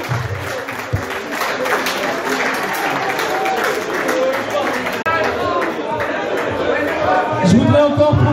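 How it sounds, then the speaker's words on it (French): An audience at a sports tournament podium ceremony applauds warmly, a sustained wash of crowd clapping lasting several seconds, with voices mixed in. "On peut vraiment les applaudir, vraiment, chaleureusement."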